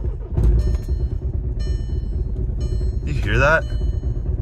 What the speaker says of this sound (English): Like the idle is normal, but it just sounds like dead, dead, dead, dead, dead, dead.